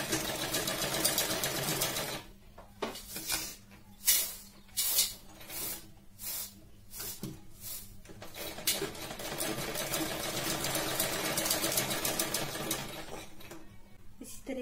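A sewing machine stitches a blouse seam at half an inch, running in short bursts with brief pauses early on, then settling into a long, steady close-up whir.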